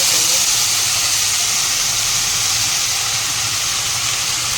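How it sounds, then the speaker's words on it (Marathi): Coriander powder frying in hot oil, a steady close-up hiss and sizzle with no break for a few seconds. "धना पावडर तेलामध्ये फ्राय केलेली"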